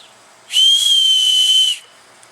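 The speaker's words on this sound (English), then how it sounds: "incorporated in the handle of that is also a signaling whistle" A signaling whistle built into a survival knife handle sounds one loud, clear, breathy blast of just over a second, up close and alone.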